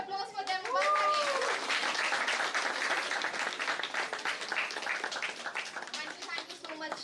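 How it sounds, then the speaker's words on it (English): An audience at a caregiver well-being panel event breaks into steady applause that swells quickly and holds for several seconds, with a brief voice heard at the start over the clapping. "I would like to have a big round of applause for them once again."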